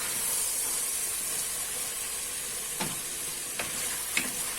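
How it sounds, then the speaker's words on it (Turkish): Meat sautéing in a pan for a dry bean stew gives a continuous loud sizzle and hiss, broken by a few brief scraping stirs toward the end. "bu şekilde kavuracağım"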